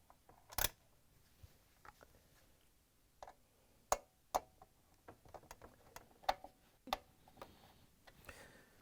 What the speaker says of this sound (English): we're just going to put the screw in and use the Torx 20 driver to tighten it down